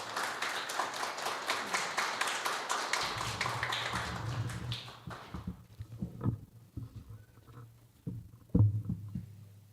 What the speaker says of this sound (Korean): 박수로 환영해 주셨으면 좋겠습니다.